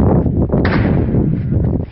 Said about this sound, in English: 4 gunshots can be heard from a small caliber pistol.